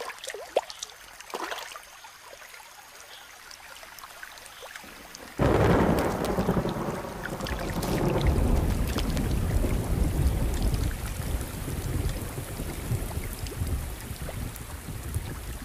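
Storm rain comes in abruptly after a quieter opening with a few distant rumbles, then pours steadily and loudly with rolling thunder swelling beneath it.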